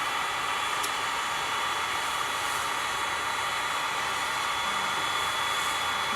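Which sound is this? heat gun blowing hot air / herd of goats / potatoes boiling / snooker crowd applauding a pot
heat gun blowing hot air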